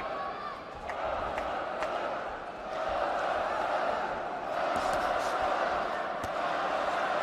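Boxing arena crowd at a World Series of Boxing finals bout in Astana, a steady roar of cheering and shouting that swells and fades in waves throughout, under faint background noise.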